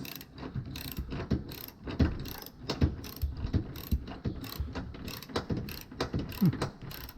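Ratcheting wrench clicks and metallic clanks while bolts are tightened on the chassis of a Başkent Karavan Medusa 3 towed caravan, with irregular close-up bursts of ratchet strokes and knocks throughout.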